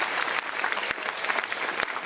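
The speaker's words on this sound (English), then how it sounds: "Give our judges a round of applause." Studio audience applause for the judges at a TV comedy competition final, steady dense clapping throughout with a few sharper claps standing out.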